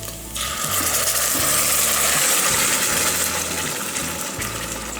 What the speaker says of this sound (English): I'm going to rinse the can with a little water.